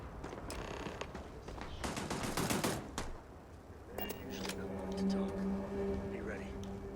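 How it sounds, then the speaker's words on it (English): Gunfire in the Starfield video game crackles in rapid bursts and fusillades, fairly faint and mixed with game effects and mechanical sounds. "I hear gunfire to my right."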